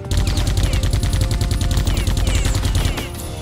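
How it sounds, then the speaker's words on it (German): Rapid automatic gunfire in the video game Geist, a loud, dense stream of repeated shots rattling for about three seconds before cutting off. "Wenn er jetzt gleich nämlich schießt"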